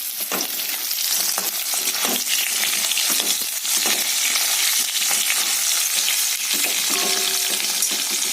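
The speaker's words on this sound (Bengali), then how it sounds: "আলুটা যখন ভাজা হয়ে গেছে, আলু আর কাঁচকলাটা, আমি হতে পারে 2টো কাঁচা লঙ্কা দেবো" Potatoes and green banana fry in a pan with green chillies for a hilsa fish curry, giving a loud, steady sizzle broken by repeated scrapes and stirring from a spatula.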